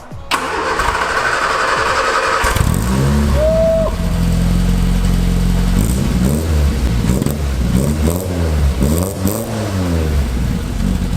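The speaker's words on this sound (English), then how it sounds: "I'm going to actually end today's video with the Escort starting" A Ford Escort MK1 cranks with the starter, catches, and settles into a loud, lumpy idle before a series of rising and falling revs, recorded close to the car.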